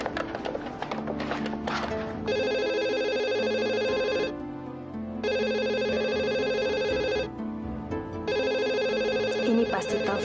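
An old-style telephone rings indoors in three long, evenly spaced bursts of bright, continuous bell tone with short pauses between, loud and close, with no voices over it.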